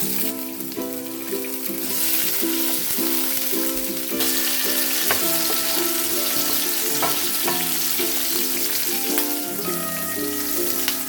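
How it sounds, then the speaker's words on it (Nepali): Garlic, ginger and green chili fry in hot oil for a chayote pickle, a steady dense sizzle with occasional clinks and stirring, close and loud throughout. "अब म यो लसुन, अदुवा र यो हरियो खुर्सानीलाई हालेर एकैछिन फ्राई गर्छु।"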